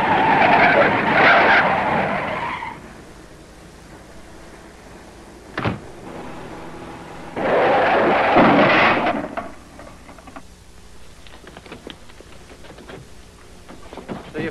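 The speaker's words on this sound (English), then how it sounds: "Now, slam on your brakes." A car in a 1938 gangster film brakes hard, its tires screeching in two loud skids a few seconds apart, with a thump between them and engine rumble and clatter afterward.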